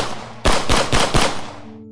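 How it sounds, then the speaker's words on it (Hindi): Four rapid gunshots in a short burst, loud and close, followed by a brief fading tail, with no talking over them. "हिम कासकर को एक प्रोस्टिट्यूट के साथ कार में 5 लोगों ने गोलियों से छन्नी कर दिया"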